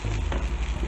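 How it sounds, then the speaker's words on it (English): Vegetable stew with pumpkin, carrots and stock sizzling in a pot, a dense, loud, continuous frying hiss with faint bubbling and no talk. "You can see the sizzling."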